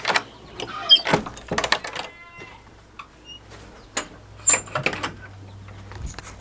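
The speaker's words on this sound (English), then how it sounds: "I'm gonna close this door." A door on a farm is closed with several close clattering knocks and latch sounds in irregular bursts, followed by a low steady hum and a few faint animal noises.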